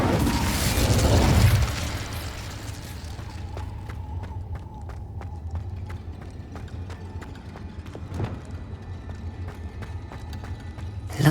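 The Incendio fire spell in Hogwarts Legacy, cast inside a cave, flares up as a loud burst of rushing flame that fades quickly, leaving a low ambient hum and scattered small clicks and a later thud.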